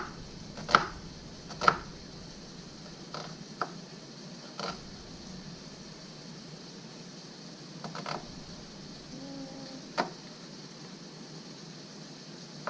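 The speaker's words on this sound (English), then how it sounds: "Now I keep the bottom intact so it's just a little bit easier to cut and slice." An onion being sliced with a knife for carne asada: a few faint, sparse knife taps and cuts spaced irregularly over a quiet background, close but soft.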